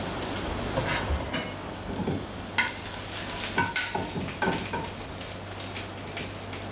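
Chopped garlic frying in about three tablespoons of hot oil in a pan, a steady close sizzle with scattered crackles and pops throughout.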